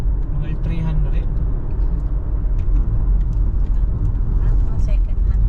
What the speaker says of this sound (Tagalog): Dami sasakyan.